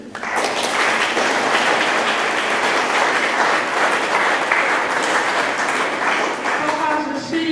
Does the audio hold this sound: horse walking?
no